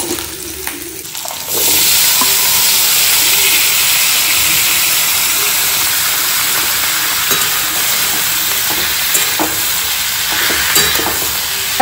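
Carrots and potatoes frying in a little oil, covered in the pan: a sudden loud sizzle starts after a quieter moment, then a steady close hiss with occasional stirring clinks.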